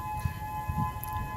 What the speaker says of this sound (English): Sirens just came on